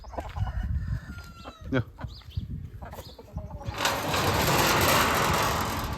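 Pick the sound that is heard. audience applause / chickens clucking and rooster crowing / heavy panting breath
chickens clucking and rooster crowing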